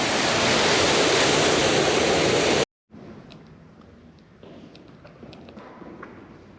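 Rushing water of a stream beside the Via Podiensis pilgrim trail. A loud, steady broadband roar ends abruptly and gives way to a much quieter outdoor ambience with faint scattered sounds.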